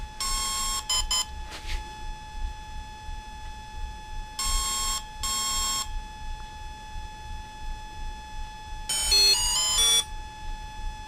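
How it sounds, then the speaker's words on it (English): An RC car electronic speed controller, an Exceed RC Proton or Volcano, emits programming tones: bursts of sharp electronic beeps in short groups separated by pauses, with a high melodic chirp sequence near the end. "So I'm going to wait for a single long beep"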